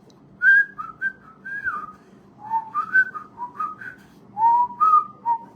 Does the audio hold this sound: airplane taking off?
no